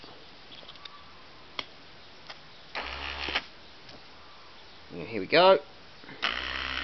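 A 4x4 four-wheel drive control unit motor, bench-tested by bridging its switch, whirs in two short close bursts with quiet pauses between, and a person speaks briefly.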